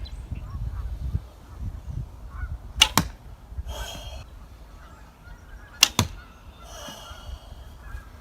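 Two heavy arrows of over 1,000 grains are loosed from an 80-pound French yew longbow, each giving a sharp twang and thump, spaced about three seconds apart, over low outdoor background noise with no talk.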